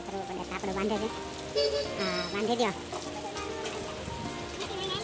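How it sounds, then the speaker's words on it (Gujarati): A sudden rain shower patters steadily on surfaces outdoors around a house, a constant wash of drops beneath people talking close by. "અચાનક વરસાદના કારણે"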